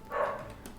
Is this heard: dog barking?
yes